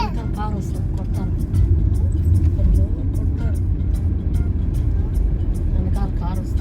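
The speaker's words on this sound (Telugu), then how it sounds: "కారు వస్తుంది, కొడతారు." Car approaching along the Tirumala ghat road, a continuous low motor rumble swelling midway under frequent nearby chatter and voices.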